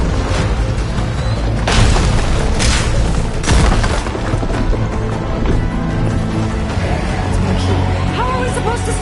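An enemy machine in Horizon Forbidden West firing at players, heard as loud, heavy booming blasts and rumbling impacts in a dense game battle mix, with voices talking over it.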